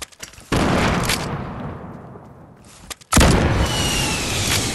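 Heavy gunfire in Fortnite during a build battle, two loud blasting bursts with a brief quieter stretch between, dense and close with no talk.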